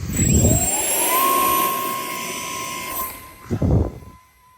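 A small jet engine on a 3D-printed model Concorde whines loudly, its pitch rising and then holding steady as it passes, with a burst of rushing air near the end.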